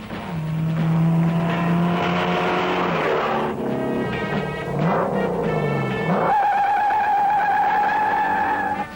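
A 1968 Shelby GT500 KR with a 428 engine accelerates hard on a road test. Its loud engine climbs in pitch through several gear changes, with tire noise near the start and a sustained high drone at the end.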